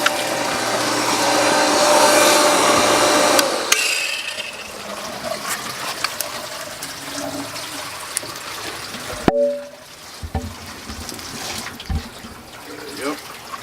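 A pump runs at a duck pond, pushing water in a loud, steady rush for the first few seconds, then falling to a quieter trickle with scattered splashes and knocks while people talk.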